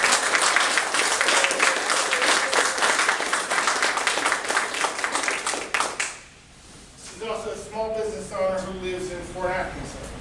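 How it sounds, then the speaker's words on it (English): Audience at a progressive political forum applauds a speaker's introduction, a dense, loud burst of clapping for about six seconds that ends abruptly before a voice begins talking. "clapping"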